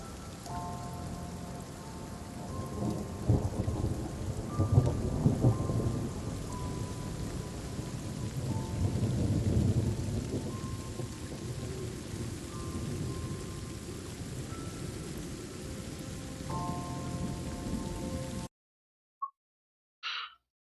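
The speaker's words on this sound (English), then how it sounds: "It's raining." Steady rain patters in a PS4 video game, with low thunder rumbling beneath it. The rain runs for most of the clip before cutting to near silence with a couple of tiny blips.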